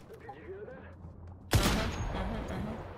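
Sniper rifle shot in the video game Once Human, one sharp loud crack midway that leaves a lingering rumble, with a voice talking before it.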